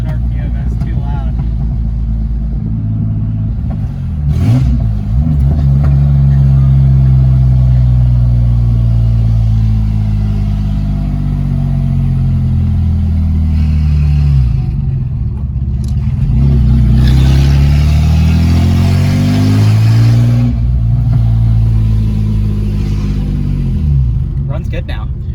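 A Nissan 300Z engine, running after a knock fix, revs up and down loudly several times, with the pitch rising and falling in long sweeps between a steady idle.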